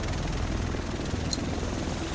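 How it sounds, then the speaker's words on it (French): Helicopter rotor and engine in a PS4 video game, a steady loud dense whir filling the whole stretch without a break. "Le reste de l'équipe devrait être dans cet hélico."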